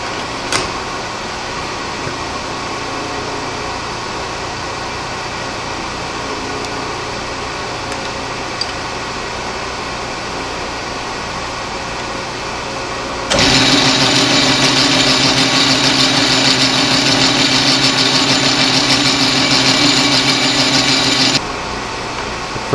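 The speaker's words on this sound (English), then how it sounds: "Now I'm going to drill some holes." Drilling holes in metal parts for a small homemade propane burner, a steady mechanical whir that holds for several seconds at a time and then jumps to a louder, harsher drilling roar partway through, close up with no talk.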